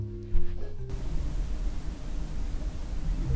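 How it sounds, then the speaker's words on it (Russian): Near-silent ambient hush inside a soundproof room: a faint, steady low rumble and soft broadband hiss with no distinct events, quiet and even throughout. "А вот то, что слышно в звукоизолированной комнате."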